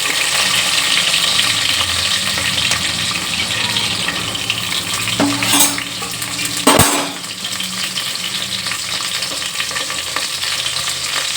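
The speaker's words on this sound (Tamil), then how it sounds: "இப்போ வந்து வெங்காயத்தை சேர்த்துக்கிறோம். வெங்காயமும் பச்சை மிளகாயும்" Onions and green chilies fry loudly in a pan for biryani, a dense, continuous close sizzle broken midway by a couple of sharp clatters of stirring against the pan.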